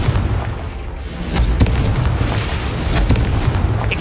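A Confringo fire spell blasts in Hogwarts Legacy as a loud, rumbling explosive burst with crackling hits, continuing as a dense roar for several seconds.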